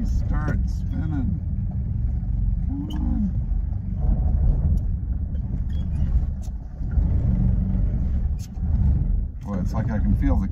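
A 1941 Cadillac barn find struggles across dirt with a slipping clutch, its engine rumbling and revving steadily throughout while a person talks over it.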